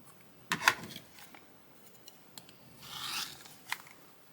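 Quilt fabric being cut along a ruler for a quilt block: a couple of short, crisp rasping strokes near the start and a longer slicing pass later, close and fairly quiet with no talk.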